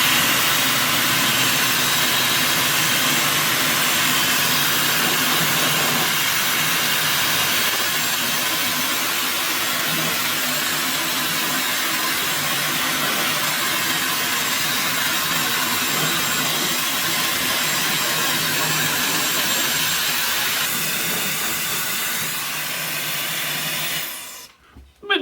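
A LYLUX cordless hair dryer blows a steady, loud rush of air close by, holding an even roar for over twenty seconds before cutting off abruptly at the end.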